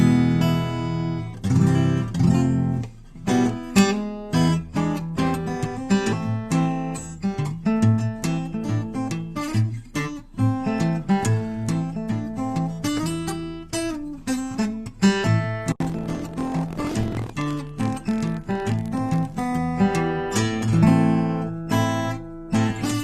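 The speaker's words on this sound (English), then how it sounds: "I'm feeling a tiny guitar that sounds like this." A tiny Truncale guitar played gently and close, a continuous run of plucked notes and strummed chords with ringing harmonics and no voices.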